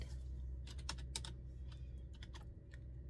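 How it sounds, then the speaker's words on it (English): Keystrokes tap on a computer keyboard in a short, uneven run of clicks, fairly faint over a steady low hum in a quiet room. "I'm going to type in unsatisfied."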